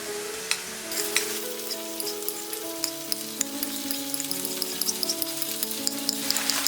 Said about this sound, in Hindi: अब हम इसमें डालेंगे ये स्प्रिंग अनियन ग्रीन्स